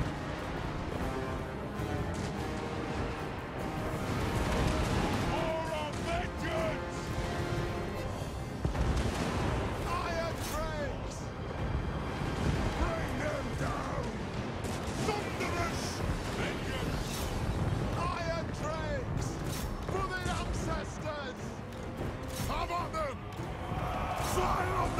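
Repeated explosions and artillery booms in a dwarf army battle in a fantasy strategy video game, landing one after another amid a busy, cluttered wash of battle noise.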